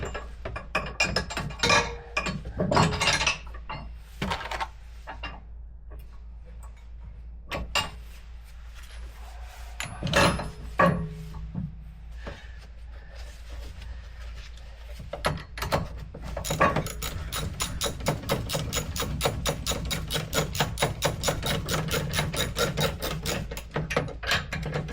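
A metal pin is pushed into a trailer hitch, producing scattered clanks, knocks and metallic rattles close by, followed by a rapid run of small clicking taps.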